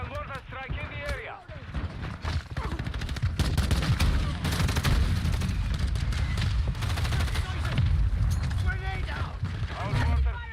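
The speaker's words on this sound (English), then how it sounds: "Hostile mortar strike in the area." Mortar strike explosions and gunfire in Call of Duty Modern Warfare II, dense continuous bursts and booms filling the mix, with game voice chatter over the start and end.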